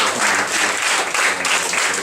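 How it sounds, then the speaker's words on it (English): A crowd at a cerebral palsy awareness and independence day visit to an orphanage gives a loud round of applause, close and dense, with brief dips but continuous clapping throughout. "Give yourself some kind of round of applause."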